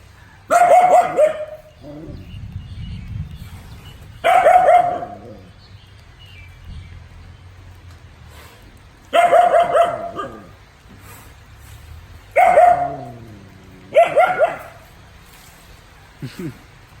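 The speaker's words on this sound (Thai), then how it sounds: "อันนั้นก็เห่าแล้วเกิน" A dog barks in five separate loud bursts, each a quick cluster of sharp barks, with quieter pauses and faint background sounds between.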